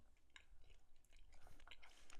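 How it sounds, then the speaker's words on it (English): Someone chewing a gummy close to the microphone: soft, irregular squishing and smacking mouth sounds, faint and quick, with no talking. "Chewing the fuck out of this right now."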